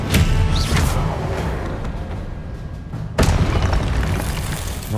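Magical spell effects in Hogwarts Legacy: a loud booming burst at the start, a rumbling wash that fades, then a second sharp boom with a crackling whoosh about three seconds in.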